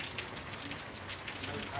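Steady rain falls on a Monday morning in Thailand after about two hours of continuous downpour, a dense, even patter filling the space without pause, near and fairly loud, with no one talking.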